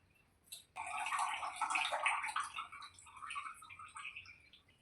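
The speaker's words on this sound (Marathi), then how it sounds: "तो स्वच्छ पाणी घालून धुवून घेणार आहे" Clean water splashed and swirled over semolina to rinse it for rava uttapam, a close, bright burst of pouring and sloshing that starts abruptly and then gradually eases off.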